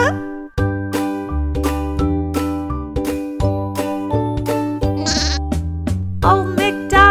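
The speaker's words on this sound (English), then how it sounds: "With a baa-baa here and a baa-baa there." Sheep or lamb bleats in the children's song Old MacDonald Had a Farm, a run of loud, repeated baa calls over a bright bouncy melody with jingling percussion, close and clear with no speech.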